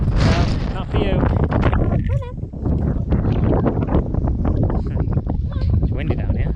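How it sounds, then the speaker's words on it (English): Wind gusts buffeting a microphone outdoors by the water's edge, a steady loud rumble and roar running through the whole stretch while voices and a parrot-like whistle cut in briefly. "It's windy down here."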